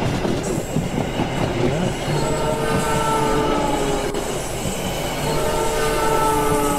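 Train horn in a Unity train game blares as a long sustained tone over the steady rumble and clatter of the moving train, loud and close throughout.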